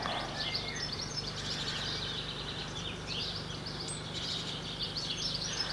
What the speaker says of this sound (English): The bird doing most of this singing is a chaffinch